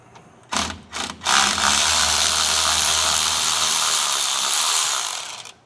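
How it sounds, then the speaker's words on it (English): A ratcheting bolt runner spins a bolt during a rear differential fluid change on a 2006 Chevrolet Colorado, starting with two short bursts and then whirring loudly and steadily for about four seconds before stopping, close up with no speech. "let's get the old bolt runner out"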